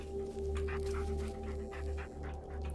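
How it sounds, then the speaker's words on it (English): A dog pants in rhythmic bursts in the horror video game Blair Witch. The breaths are steady and close, over a low droning ambience. "Oh man, I love this dog."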